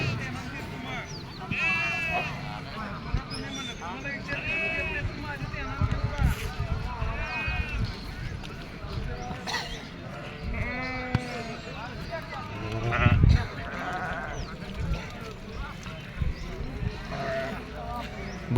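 Sheep bleat repeatedly amid a crowded outdoor livestock market at Atpadi, with people talking throughout and occasional handling noises; the calls come from several animals at moderate distance, layered over steady crowd murmur.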